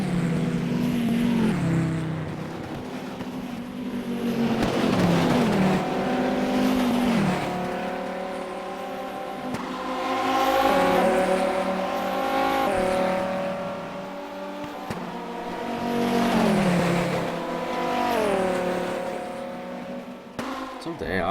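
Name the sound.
Viper race car driving in rFactor racing video game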